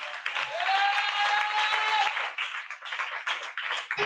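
A congregation at a Friday deliverance and prayer church service claps and cheers loudly for Jesus in a burst of applause that tapers into scattered claps, with a whistle or shout riding over it.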